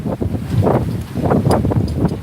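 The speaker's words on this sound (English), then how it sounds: "it's getting very windy. I might need to move inside." Strong gusts of wind buffet the microphone in rough, rolling surges outdoors in Panglao, with rustling and blowing noise and no talking.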